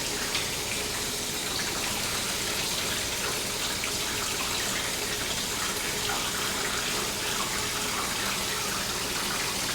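Fixer solution drains steadily from a film developing tank, a continuous soft gush of liquid pouring into a sink for about ten seconds, fairly faint and without talk.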